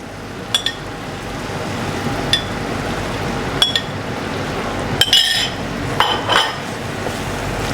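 A metal utensil clinks sharply against a pan several times at irregular intervals while barbecued chicken and cream are stirred into butter chicken gravy, with a low steady hiss underneath and no talking.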